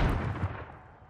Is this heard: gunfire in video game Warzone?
yes